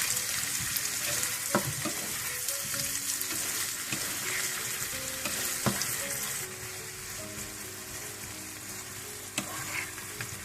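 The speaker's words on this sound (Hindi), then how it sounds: "इसको अच्छी तरह से मिक्स कर लूंगी।" Fried golden potatoes being stirred with cream in a pan, with steady close sizzling and repeated scraping and clinking of a utensil against the pan throughout, no one talking.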